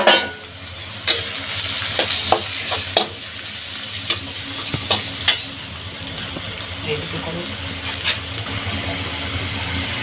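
Onions fry in a pot for home-style chicken biryani with a steady low sizzle. Sharp stirring clicks and scrapes recur, and faint voices sit under the cooking.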